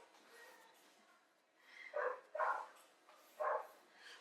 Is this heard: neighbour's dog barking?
yes